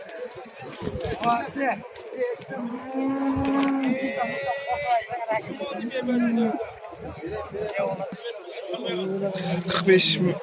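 Cattle moo repeatedly at a busy livestock market, several drawn-out bellows near and far, mixed with the chatter of people around.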